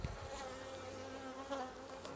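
Honeybee drones and worker bees buzz on a hive frame, a close, steady droning hum that runs for the whole clip with no voices.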